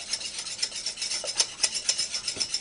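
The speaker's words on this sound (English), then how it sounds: "I want to put about a tablespoon of coarse grind pepper in there, and I'll mix that up." Coarse ground pepper being mixed into a pan while cooking gravy, heard as a continuous run of quick, close scraping and stirring strokes with a bright rasping texture, steady and alone.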